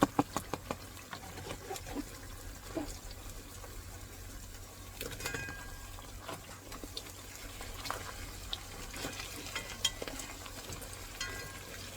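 Oil sizzles and crackles steadily as eggplant fritters fry in a pan, with occasional stirring clicks and no talk.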